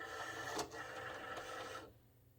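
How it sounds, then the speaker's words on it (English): A Cricut cutting machine loading its mat: a soft, steady mechanical whir with a faint click partway through, running about two seconds before cutting off into near silence. "now we're going to go ahead and load the mat"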